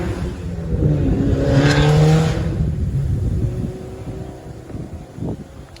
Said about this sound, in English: I think that was a Mitsubishi or something going by.